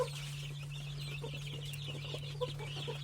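Chickens cluck steadily in short, close bursts at feeding time over a constant low electrical hum, with no talk.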